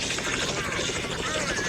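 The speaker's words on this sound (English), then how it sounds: "come in my helicopter right here" A helicopter in a video game thrums with a steady, close rotor chop and engine whine, heard under people talking.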